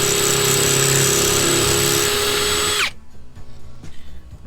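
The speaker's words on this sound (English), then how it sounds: "we'll try to drill a hole through this stud first" A power drill bores through a wooden stud, a loud steady high whine close by that cuts off abruptly, leaving a few faint clatters and knocks.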